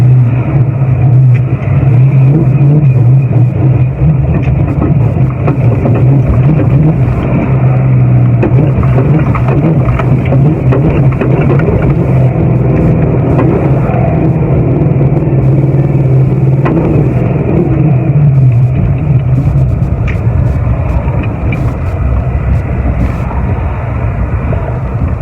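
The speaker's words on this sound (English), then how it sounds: "Now the car starts bucking and chucking and it won't maintain speed." Ford Mustang Foxbody engine drones from inside the car while it bucks and fails to hold speed, a steady loud rumble with uneven surges and sags, without talking.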